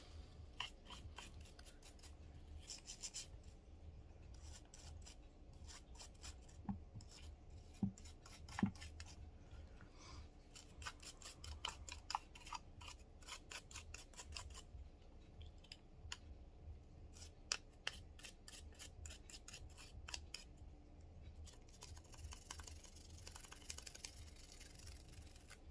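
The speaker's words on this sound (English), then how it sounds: "you can go ahead and scrub the rest of it with your brush" A brush scrubs a Western Six 22LR revolver, making quiet, steady rasping strokes that repeat closely throughout with no talking.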